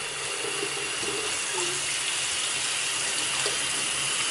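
A tap runs steadily into a sink, a continuous close rushing of water with faint shifts as an object is held under the stream; no voices are heard.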